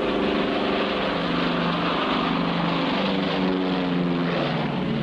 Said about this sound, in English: You can do everything with an airplane.